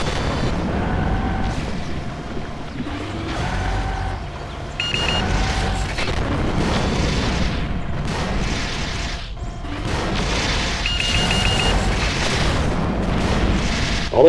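Explosions and heavy weapon fire ring out as a mech is destroyed in the MechWarrior 4 video game, a dense run of loud booms and blasts with tonal game sound effects, continuous and without speech.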